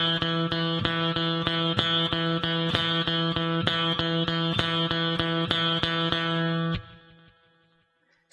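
Two measures of eighth note triplets ring out on a distorted electric guitar, an even stream of three picked notes per beat, loud and up front, before the last note stops and decays into silence.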